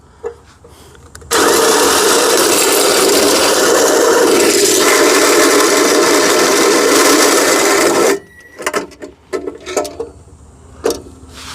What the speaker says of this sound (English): the bit doesn't like going through metal when it doesn't have a pilot hole